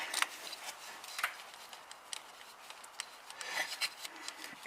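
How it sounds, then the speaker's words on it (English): A strap wrench grips and twists the oil cap on a Ford Powerstroke diesel, giving repeated faint rubbing and rasping scrapes in short irregular bursts, close by with no talk. "we're just going to use a strap wrench."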